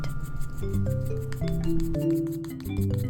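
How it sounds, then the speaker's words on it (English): An old toothbrush loaded with tempera paint is rubbed across a comb to spray paint, giving a close, dry scratchy rasp with clicking bristle flicks over a background of steady tonal sound. "I will create a spray effect by brushing a comb with an old toothbrush."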